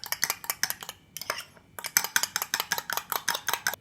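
Cream being mixed in a bowl, a fast, steady run of light clicking and tapping strokes with one brief pause midway.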